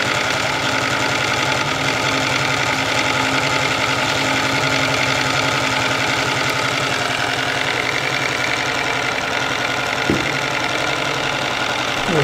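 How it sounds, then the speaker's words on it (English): Homemade twin-cylinder steam engine running on live steam, a loud steady rapid chuffing and mechanical knocking that continues unbroken, with a faint tap near the end. "Wow, I really like this engine."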